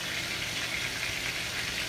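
Sliced fish sizzles in a pan as it fries, a steady, close, crackling hiss with no talk.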